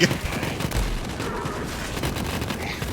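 Shotgun fire in Borderlands 3, a dense, continuous wash of loud gunfire with repeated bursts blending together for a few seconds, no clear pauses between shots.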